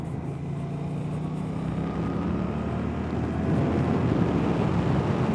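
A Suzuki GSX-8S motorcycle with its 776 parallel twin engine rides along, giving a low, steady drone that swells slightly toward the end, mixed with heavy wind rush.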